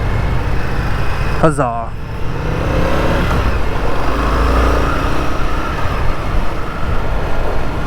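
An Indian FTR Carbon R motorcycle pulls away after earlier stalls, its engine rumble rising steadily and loud under wind noise while a voice briefly exclaims.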